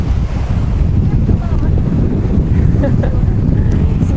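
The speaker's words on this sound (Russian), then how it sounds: "Сегодня очень сильный ветер," Strong wind buffets the microphone with a constant roar, while Black Sea waves wash in the background on a beach near Veselovka; faint voices are barely present.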